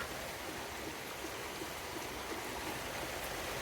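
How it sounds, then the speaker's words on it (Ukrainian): Steady rain falls outside, a soft continuous hiss with no talking over it. "поки в нас іде дощик."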